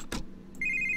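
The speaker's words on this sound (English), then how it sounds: "Oh, a phone call. I haven't heard one of those in a while." A telephone rings in the Five Nights at Bradley's horror game: a short thump, then a bright electronic ring tone starting partway through and holding steady, fairly quiet and alone.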